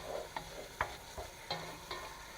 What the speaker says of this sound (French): pour pas que ça colle, je remue.